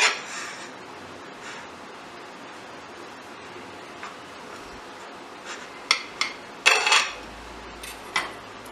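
A soft vanilla tea cake is cut on a plate: quiet rustling gives way to sharp, scattered clinks and taps of metal utensil against the plate, several in quick succession toward the end, with no talking.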